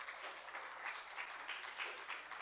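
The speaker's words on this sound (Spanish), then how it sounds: "Dele un aplauso al Señor por eso." A church congregation applauds during a sermon, a steady, fairly faint wash of many hands clapping that carries on evenly throughout with no voices over it.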